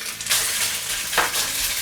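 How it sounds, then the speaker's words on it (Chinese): Minced pork belly hits a little hot oil in a wok and sizzles loudly, a steady close frying hiss with two brief surges of stirring, no voices. "这个是五花肉末，我们下锅。"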